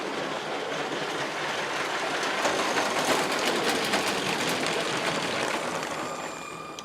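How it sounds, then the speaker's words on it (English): A model passenger train with headlights runs a lap around its track, giving a steady, continuous mechanical rumble with faint clicking that holds at an even level throughout, close to the microphone and with no talking. "Let the train get around one more lap"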